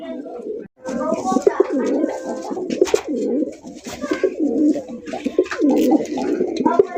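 A fancy pigeon coos loudly and repeatedly in a rhythmic, throaty pattern close up, with faint voices in the background.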